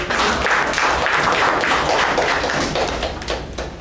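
A meeting room crowd gives a loud, dense round of applause that carries steadily throughout and tapers slightly at the end.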